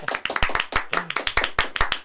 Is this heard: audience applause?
yes